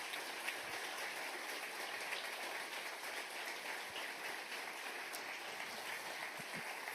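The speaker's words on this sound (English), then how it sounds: "Can I have a round of applause" A conference audience at a closing session gives a sustained round of applause, a faint, distant and even wash of many hands clapping with no voices over it.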